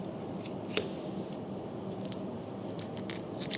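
Boning knife cutting through a raw lamb leg where the shank meets the main leg bone: faint, close crisp snips and clicks scattered over a quiet kitchen background.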